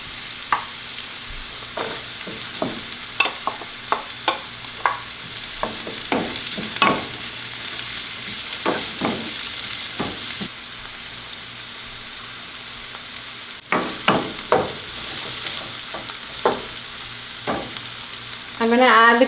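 Jalapenos and zucchini fry in a pan with a steady sizzle, broken by frequent stirring scrapes and clicks. The crackle swells again near the end as more ingredients land in the hot oil.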